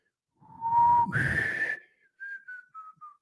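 A person whistles a few tones: a steady low note, a breathy rising note, then several short descending whistled notes, close and clear.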